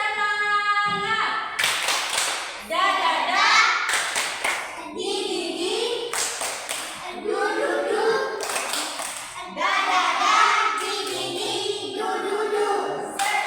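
Schoolchildren standing in a classroom perform a rhythmic tepuk semangat clapping chant, loud bursts of group clapping in patterned beats mixed with children's chanting voices, continuous through the passage.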